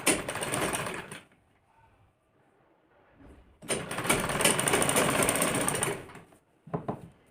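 A sewing machine stitching a collared kurti, a steady whirring run for about a second, a pause with faint handling noise, then a longer run of several seconds and a brief final burst, close and loud.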